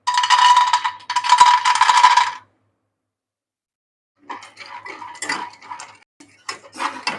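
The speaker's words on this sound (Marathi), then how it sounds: "आता आपण बदाम भाजून घेऊया." Almonds rattle and scrape in a metal kadhai while being roasted for laddus, with dense clattering bursts, a pause of near silence, then sparser, lighter stirring clinks, close up.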